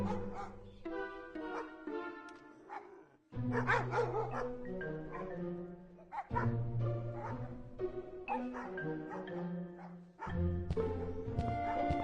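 Dogs bark over and over at an animal shelter in the Scott Whiskers video game, with repeated yips and woofs filling the whole stretch, close and fairly loud, and a few brief pauses between bursts.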